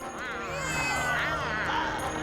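Several cats meowing and caterwauling in quick succession, fairly close, with high wavering cries overlapping in a short burst.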